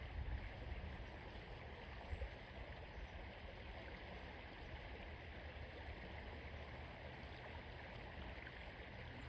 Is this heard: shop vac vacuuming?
no